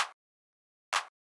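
Mid-range, cracky clap sample layer sounding twice, with a short sharp crack centered in the middle band and a brief tail, dry and solo with silence between hits.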